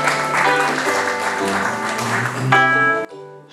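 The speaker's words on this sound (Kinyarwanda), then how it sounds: "dukomere Imana yacu amashyi." A church congregation at a revival gathering applauds loudly and continuously, with music ringing through the clapping before it cuts off near the end.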